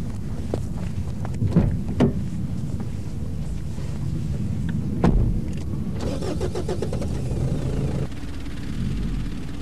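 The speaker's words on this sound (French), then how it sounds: "je retourne à mon véhicule et je mets la marche arrière pour aider le véhicule qui me tracte" A Mitsubishi 4x4 in reverse gear, helping while it is towed out of a stuck spot off-road, gives a steady engine rumble with wind buffeting the microphone, plus a few knocks and a brief whirring rattle near the end.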